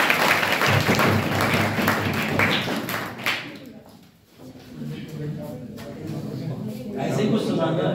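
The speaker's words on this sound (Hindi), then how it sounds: "चलिए तालियां बजा दीजिए।" A classroom audience during a history lecture breaks into a burst of clapping that fades after a few seconds, followed by quieter room noise and some voices.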